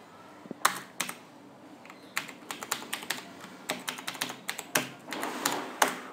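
Someone enters a GST number into accounting software on a computer keyboard, giving a quick run of close, crisp key taps in uneven bursts with no talking.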